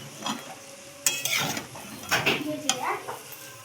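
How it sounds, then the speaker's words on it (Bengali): Meat with chili powder is stir-fried in a pan for biryani, with a soft sizzle under scraping and clinking stirring strokes and a few louder knocks of the spoon against the pan. "এবার দিয়ে দেবো লঙ্কার গুঁড়ো, দিয়ে ভালো করে কষাবো।"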